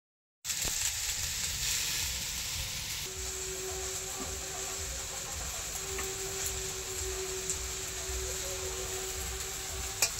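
Leafy greens frying in a pan make a loud, continuous sizzle that holds steady throughout, with a faint thin hum running underneath and no voices.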